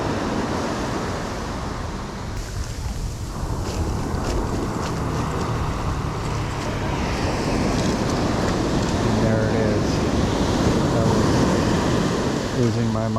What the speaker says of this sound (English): Let the tide wash out my sifter.